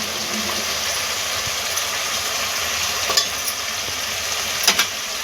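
Cauliflower, potato and tondli sauté in a hot pan, giving a steady soft sizzle with a few sharp spoon scrapes and clinks toward the end and no voices.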